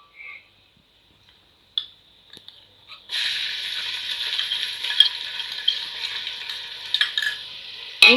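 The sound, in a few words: ginger garlic paste being stirred into fried onions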